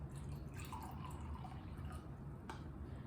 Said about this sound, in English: I'm going to fill that up, and I'm going to pour it into this glass.